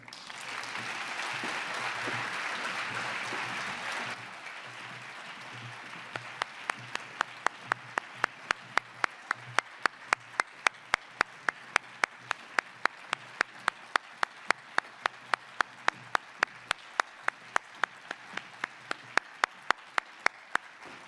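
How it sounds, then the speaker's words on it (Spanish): An audience applauds the Ciudad de Barbastro music band at a Santa Cecilia celebration: a dense burst of clapping for about four seconds, then a steady series of sharp, evenly spaced claps or clicks over a quieter hall. "vamos a recibir con un fuerte aplauso a los músicos"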